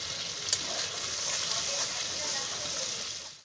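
Tomato paste sizzles and fries steadily in a pan with ginger and chili paste for a vegetarian soybean curry, a close, continuous crackle with a brief stir clink near the start.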